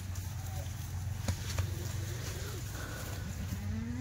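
Kathiawadi goats bleat at a goat market, giving a few drawn-out, fairly distant calls over a steady low hum of crowd and market noise.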